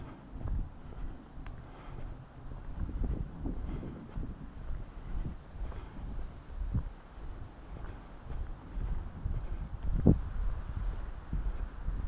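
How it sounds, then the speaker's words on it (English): Wind buffeting a microphone outdoors during a six-mile walk, a continuous low rumbling gusty roar that swells and fades, with faint rustling and no speech. "Breezy today. Hope you're not hearing too much wind noise."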